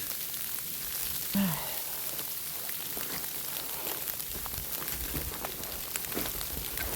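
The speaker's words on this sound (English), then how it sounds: "More sleet." Sleet falling steadily on a mountain hiking trail and bouncing off rocks, a dense continuous hiss of fine pattering close around, with no talking.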